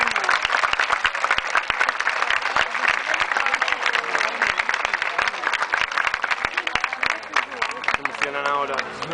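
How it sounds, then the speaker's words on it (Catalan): An audience at an aquarium show in Barcelona applauds steadily throughout, with dense, loud clapping from a crowd and a voice briefly audible near the end. "Un aplaudiment."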